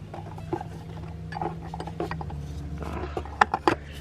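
Clicks and ratcheting taps from the oil filter housing being tightened down on a BMW 335d, a few sharp mechanical clicks near the end over a low steady hum, close and fairly quiet.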